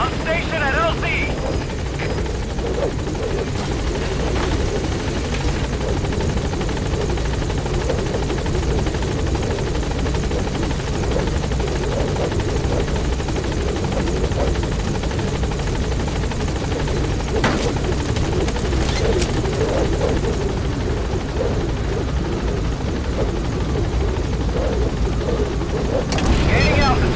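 A helicopter in the video game Metal Gear Solid V: The Phantom Pain flies close by, its steady rotor and engine drone loud and continuous throughout the clip.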